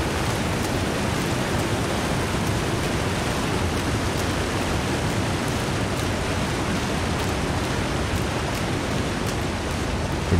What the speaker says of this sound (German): Noch ein Wasserfall, okay.